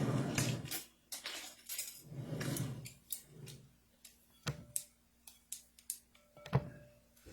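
A big metal spoon clinks and taps against a bowl while cooking, with a series of sharp, fairly close knocks and scrapes spread unevenly across the clip and no voices over them.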